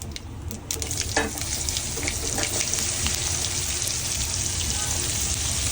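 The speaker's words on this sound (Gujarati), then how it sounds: "લસણની ચટણીથી ભરેલા ભીંડા આની અંદર આપણે ફ્રાય કરવાના છે" Okra stuffed with garlic chutney hits hot oil seasoned with asafoetida and cumin in a pan. The sizzle jumps up sharply, then holds as a dense, steady crackling hiss, with a few spattering pops early on.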